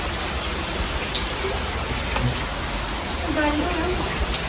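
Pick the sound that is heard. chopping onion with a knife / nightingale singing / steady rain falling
steady rain falling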